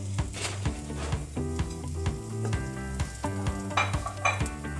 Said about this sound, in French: Et je laisse brunir les oignons.